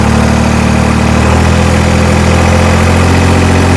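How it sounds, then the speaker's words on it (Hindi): A tractor diesel engine holds steady at 1700 rpm in a constant, loud, close drone with a strong low rumble and no talk. "भैया 1700 आरपीएम कर दिए 1700 आरपीएम पे।"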